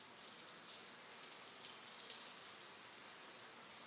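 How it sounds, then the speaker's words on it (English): Soft ambient raindrops patter continuously as a faint textural layer in a lo-fi music track, a steady hiss of rain with no voices. "And for even more texture, we have ambient like raindrops."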